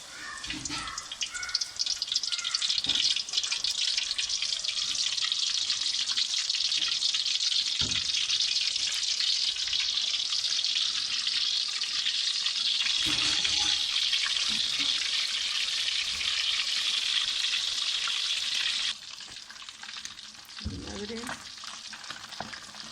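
Fish dropped into hot oil for frying hisses with a loud, dense sizzle that runs steadily for a long stretch, broken by occasional clinks of stirring, then drops to a quieter bubbling near the end.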